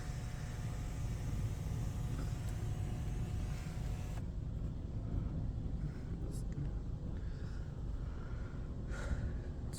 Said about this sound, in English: Motor City Washworks tunnel.